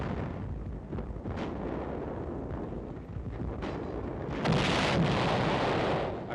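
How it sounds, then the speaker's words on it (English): Artillery shell fire and explosions from enemy emplacements on ridge tops targeting armored units in 1945 wartime combat, a dense continuous rumble of blasts with a louder, brighter burst near the end. "Heavy and accurate enemy shell fire from artillery emplacements on the ridge tops has been effective against our armored units"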